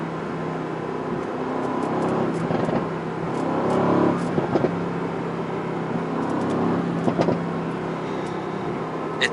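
A 2017 Mercedes-AMG GT C Roadster in Race mode produces a steady engine drone with a swell of revving around the middle, heard close and fairly loud with no talk over it.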